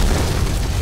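A loud, deep boom rolls out from a D-Day war video game, a single heavy blast of explosive rumble filling a brief moment with no talking.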